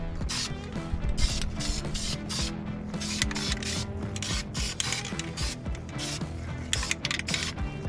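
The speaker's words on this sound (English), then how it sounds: "I'm gonna go in with the etching spray and just lightly dust it." Etching spray hissing lightly from an aerosol can onto bare metal in a car engine bay, in quick bursty puffs and rattles, close and fairly loud.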